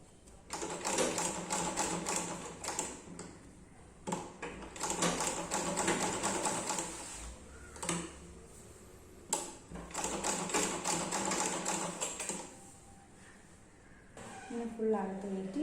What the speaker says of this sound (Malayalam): എന്നിട്ട് സ്റ്റിച്ച് ചെയ്യാം